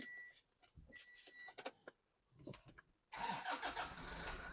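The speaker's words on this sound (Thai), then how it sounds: "สตาร์ทให้ฟังเสียงเครื่องยนต์กันสักเล็กน้อยแล้วกัน" A Toyota Commuter 3.0 D4D diesel van engine from 2018 cranks in uneven bursts for a few seconds, then catches and settles into a loud, steady running rumble.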